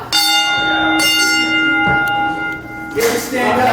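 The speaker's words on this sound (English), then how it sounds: "We have the opening bell here." A wrestling match opening bell rings in a small independent ring, several sharp metallic clangs with long ringing tones, close and loud, followed by a burst of crowd noise.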